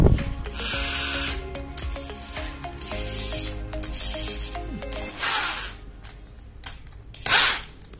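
Power drill fitted with a new keyless chuck spinning slowly, a whirring mechanical run with ratcheting clicks and some rattling, fairly close and steady, with no talking.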